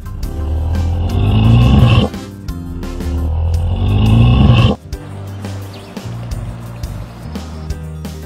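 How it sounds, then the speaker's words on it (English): A bull bellows twice, each deep, drawn-out roar lasting about two seconds, close and loud, with a low musical backing underneath. "Bull."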